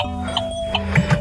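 The turn signal flasher in a Chevrolet Colorado ticks inside the cab, a few faint, evenly spaced clicks against a low steady hum.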